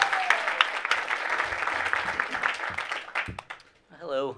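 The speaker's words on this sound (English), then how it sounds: "Clap for it." Audience applause at a magic and skepticism Q&A session, broad clapping that holds steady for a few seconds then thins out and fades, ending with a voice speaking.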